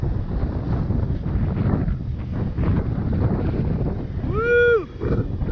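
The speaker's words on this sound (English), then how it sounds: "this is the strongest wind" Strong hurricane wind roars and buffets the microphone in a loud continuous rush, with a brief rising whine near the end from a small Ryze Tello drone.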